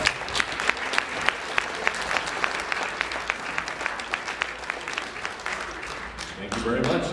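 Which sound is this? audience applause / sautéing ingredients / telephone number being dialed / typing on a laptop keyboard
audience applause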